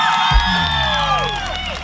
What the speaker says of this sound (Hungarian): egy óriási tapsot szeretnék kérni.